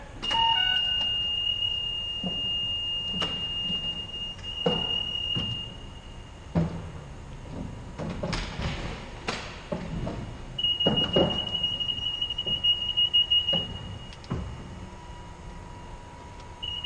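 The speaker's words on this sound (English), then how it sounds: "Here comes some beeps" A steady high electronic tone beeps on and off amid background hum and scattered clicks and thumps, fairly close.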